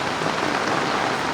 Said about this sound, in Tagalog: Wala pong tigil ang ulan dito sa amin sa Iloilo mga abyan